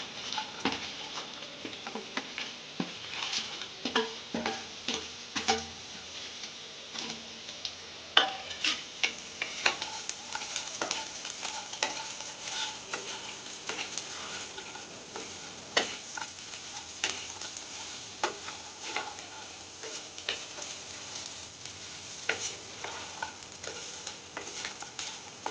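Tuna and onions frying in a pan while being stirred, a continuous soft sizzle dotted with frequent light ticks and scrapes of the utensil, close and steady throughout with no talk.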